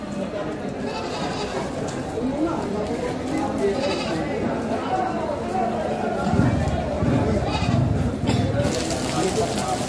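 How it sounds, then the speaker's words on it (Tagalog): Goats for slaughter bleating at a livestock market, a dense chorus of overlapping bleats mixed with steady crowd chatter and people talking throughout. "Eh si Kuya Bert, talagang namimili ng pangkatay na kambing."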